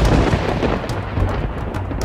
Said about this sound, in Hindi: बारिश और तूफान थमने का नाम ही नहीं ले रहे थे।